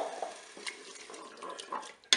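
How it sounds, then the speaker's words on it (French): Water, 200 ml of it, poured into a Cookeo multicooker while a bulgur dish is prepared, a short splashing trickle with faint clinks, ending in a brief sharp knock. "Je vais ajouter donc 200 ml d'eau."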